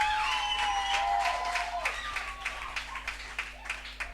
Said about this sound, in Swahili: Hebu ongeza Yesu makofi tena